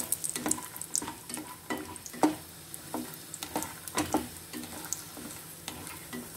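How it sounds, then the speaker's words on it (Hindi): Peanuts frying over a medium flame in hot ghee, a close soft sizzle with scattered crackles and stirring scrapes throughout, no voices. "ये हमको धीमी आग पर ही फ्राई करने हैं, नहीं तो मूंगफली के दानों में कच्चापन रह जाता है।"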